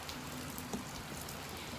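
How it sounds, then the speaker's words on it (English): Heavy rain pours outside a horse barn, a dense, steady hiss of drops drumming on surfaces that stays at an even level throughout with no talking. "because it's raining really, really bad"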